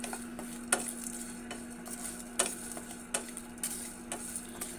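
Whole spices dry-roasting in a pan over a very low gas flame, for a goat mutton curry, give a soft steady crackle with scattered clicks and scrapes of stirring, close and fairly quiet, with no talking.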